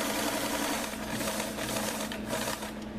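A sewing machine runs slowly and steadily while stitching the front seam of a pair of pants made from Simplicity pattern 2761, giving a continuous close mechanical whir with a faint rattle and no pauses.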